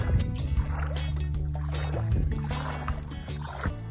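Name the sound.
chain of kayaks being walked through water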